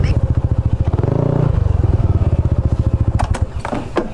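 Motorcycles, including a Yamaha NMAX V2 scooter, idle and rumble up close in a motorcycle parking area, a loud pulsing engine putter with clattering, and a person talks over it.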